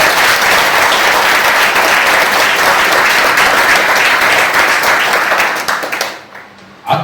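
An audience at a de-addiction awareness event applauds Moksha Foundation staff with loud, sustained clapping for about six seconds, which then thins out and fades.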